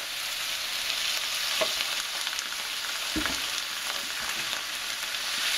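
Cabbage with bacon and basil is stir-fried in a hot pan, making a loud continuous sizzle with a few tossing and scraping knocks, close by and with no voices.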